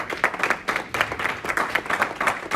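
A church congregation applauding during a sermon, with rhythmic, fairly distant clapping in loose bursts that pulse roughly in time, moderately quiet with no talk over it.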